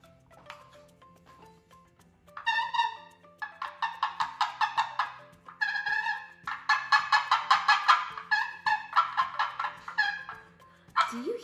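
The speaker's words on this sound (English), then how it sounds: "That sounds like a wild turkey." A wild turkey gobbles repeatedly outdoors, its rapid rattling calls coming in several loud bursts over a low steady background hum, with no talking.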